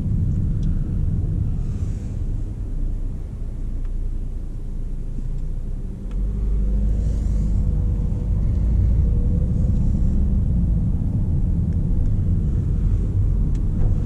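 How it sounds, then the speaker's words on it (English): Diesel Mercedes A-Class engine heard from inside while driving, a steady low rumble that swells louder about halfway through as the car pulls harder, with no talking. "Because this is a diesel, it's going to be slightly more rattly than the petrol equivalent"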